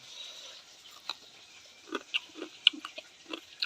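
Crisp, crunchy chewing of hot fried fish close up, in irregular bites and crackles over a quiet background, with no talking.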